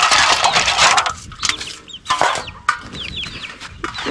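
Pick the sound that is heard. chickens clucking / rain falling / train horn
chickens clucking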